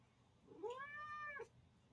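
A house cat gives a single clear meow in a quiet room, rising and falling over about a second, close and moderately loud against faint background hiss.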